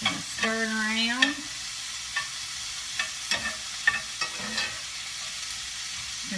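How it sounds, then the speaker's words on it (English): Asparagus sautés in a pan for a goat cheese frittata, a soft continuous sizzle broken by repeated scraping stirs, with a brief whining tone near the start. "So I'm going to add all of my asparagus here, and I'm going to let it saute for about 2 minutes"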